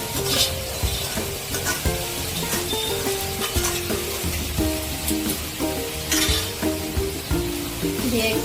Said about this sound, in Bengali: এবার আমি এর মধ্যে দিয়ে দেবো সেদ্ধ করা পেঁপে।